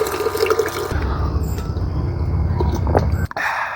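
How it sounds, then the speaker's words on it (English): Water runs and splashes steadily for a few seconds, like a glass being filled from a tap, with a brief clink near the end. "Let me get a glass of water quick."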